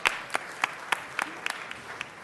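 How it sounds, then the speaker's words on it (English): Sparse applause from a small audience at a city council meeting, a handful of distinct claps spaced at a steady rhythm over a couple of seconds, fairly near and moderately loud. "Let's give Sherry another round of applause."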